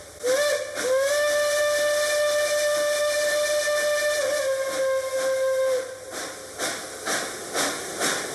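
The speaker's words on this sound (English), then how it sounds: "gives a little celebratory whistle with the Reading Hooter whistle" A Reading Hooter chime steam whistle on Reading & Northern steam locomotive 2102 sounds one long, loud, steady chord lasting about five seconds, then gives way to steam hiss and rhythmic chuffing from the cab.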